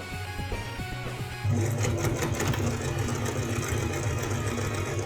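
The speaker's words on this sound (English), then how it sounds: "This machine was not made for this kind of sewing." A sewing machine stitches a cosplay costume, starting with slow, uneven stitches and then breaking into a loud, steady, fast mechanical whir that runs to the end.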